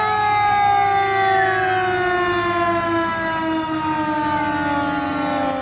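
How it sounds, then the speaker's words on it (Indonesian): Red toy fire truck siren wailing continuously, a loud electronic tone sweeping slowly downward in pitch, close and alone without voices. "Widih, widih, mobil pemadam kebakaran teman-teman."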